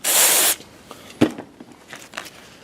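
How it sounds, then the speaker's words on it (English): A quick aerosol spray on a 2018 Toyota RAV4 front brake caliper pin, one loud half-second hiss up close, followed by faint handling clicks and scrapes. "And then we're just going to give it a quick spray."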